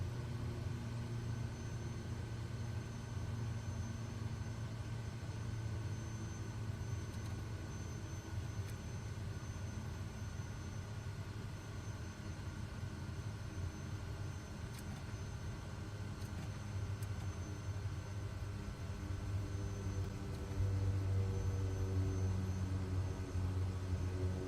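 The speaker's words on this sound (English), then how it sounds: "Got to roll to the end of the runway anyway." Kodiak 100 turboprop in Microsoft Flight Simulator 2024 taxiing along a runway, a steady low engine drone and rumble that holds throughout and swells slightly toward the end.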